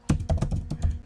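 A computer keyboard is struck in a quick burst of about eight crisp, close keystrokes while code is typed, with no talk.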